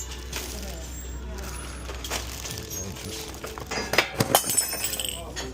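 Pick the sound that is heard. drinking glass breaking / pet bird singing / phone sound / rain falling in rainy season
drinking glass breaking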